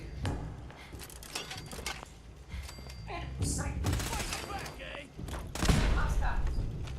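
Bursts of gunfire in Fallout 4 during a gauntlet fight, with sharp repeated shots and rapid volleys, loud and close, mixed with clanks and impacts.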